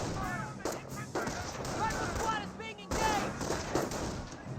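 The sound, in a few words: gunfire from infantry battle in Company of Heroes video game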